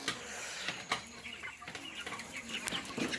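Chickens on a poultry farm, flock suffering from a cold, cluck and call at a moderate distance over a steady barn hum, with occasional sharp clucks and brief wing flaps.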